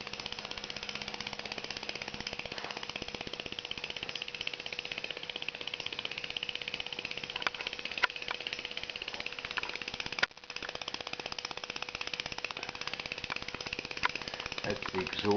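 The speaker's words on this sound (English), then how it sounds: "That's the exhaust pipe, just to give a bit of sound to the engine." A K-D Angelique vertical steam engine runs smoothly, and its exhaust pipe gives off a fast, even, steady beat that stays at a constant moderate level throughout, with only a brief dip in the middle.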